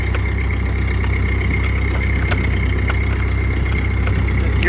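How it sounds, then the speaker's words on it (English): Ford 8N tractor engine running steadily with the throttle opened up a little, a close, even mechanical drone with a low chugging pulse and faint ticking, with no talk. "Give her a little bit more throttle."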